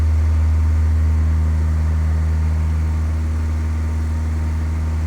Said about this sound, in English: we'll look outside of the airplane and we'll listen to that engine too